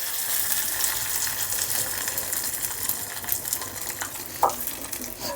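Tomato chutney frying with curry leaves in a pan over medium flame, giving a steady close sizzle with soft stirring scrapes and one brief clink near the end, no talking.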